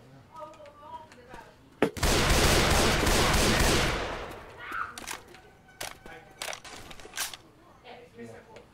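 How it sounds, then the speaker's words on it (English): Left 4 Dead 2 gunfire: scattered sharp shots, then a dense roaring burst of about two seconds followed by more isolated cracks, with players talking throughout. "Can we stop shooting each other?"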